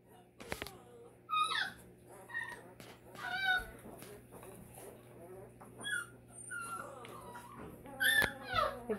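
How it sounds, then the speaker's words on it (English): Newfoundland puppies whimper and yip in repeated high, thin cries scattered across the stretch, close by, with a quiet voice in the background. "healthy, happy, big pups"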